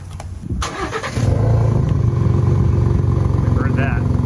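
A 2021 Ford F-150 EcoBoost pickup with an active Roush exhaust starts with a clatter and settles into a loud, deep, rumbling idle close by, with a voice briefly heard at the start.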